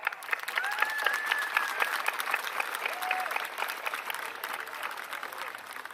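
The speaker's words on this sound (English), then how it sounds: "Please, graduates, let's give them an applaud." At a high school graduation ceremony, graduates applaud their families, a wide crowd clapping with individual claps distinct, moderately distant, with faint voices and a whistle or cheer mixed in.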